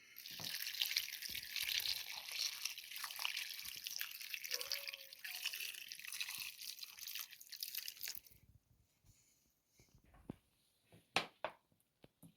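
Boiled water pours steadily in a bright, splashing stream over herring and potatoes with paprika and bay leaf for several seconds, then stops, leaving a few scattered drips and light clatter.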